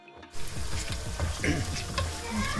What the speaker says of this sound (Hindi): तकरीबन 3 से 4 मिनट हो चुके हैं आलूओं को फ्राई करते हुए